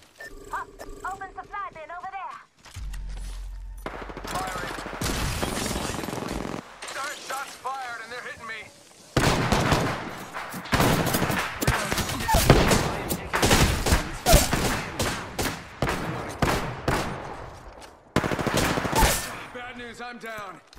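Rapid bursts of automatic gunfire ring out in the Apex Legends video game, with loud clustered volleys separated by short gaps, mixed with game character voice lines and other in-game sounds.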